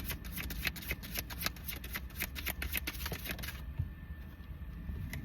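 A deck of tarot cards is shuffled by hand in a rapid run of riffling, crisp flicks and slaps, close and fairly steady, easing into a softer, quieter rustle toward the end with no talking.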